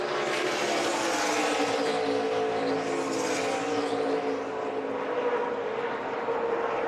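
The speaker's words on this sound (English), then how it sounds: "There's the 2 Thor Sport trucks racing along with Eric Jones" NASCAR Truck Series pickups, including the two ThorSport trucks, race at Pocono in 2014, a steady loud roar of engines at speed that holds throughout without a break.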